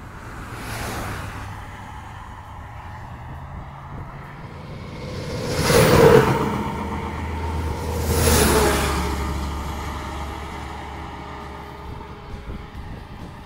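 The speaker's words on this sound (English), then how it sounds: "Some cars passing by." Several cars pass one by one along a quiet country road, each rising to a broad whoosh as it goes by and fading away, with low steady rumble between passes and no talking.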